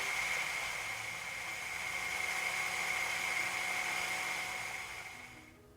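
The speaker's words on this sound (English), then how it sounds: "And blend it to be smooth." A blender grinds pumpkin seeds until smooth, giving a steady, loud whirring roar with a high whine that holds for about five seconds and then winds down.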